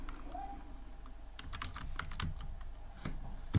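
Computer keyboard keys clatter in short irregular bursts while Python game code is entered, fairly close and at moderate volume, with no voice over it.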